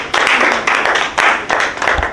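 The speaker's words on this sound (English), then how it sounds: "So a nice round of applause for Zimbabwe." A live audience claps together in a dense wash of applause, loud and close, with slight swells and dips and no voices over it.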